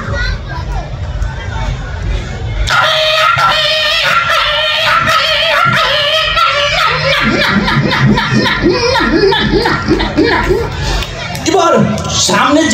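A person's voice imitates small puppies crying and whimpering, with high wavering yelps that rise and fall over several seconds, loud and close, with a crowd and children audible in the background.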